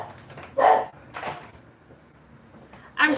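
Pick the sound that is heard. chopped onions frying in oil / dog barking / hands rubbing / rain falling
dog barking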